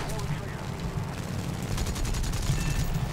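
Aircraft cannons fire in rapid, continuous bursts during a War Thunder air battle over Pearl Harbor, a dense rattling stream with a low rumble underneath, steady and loud throughout.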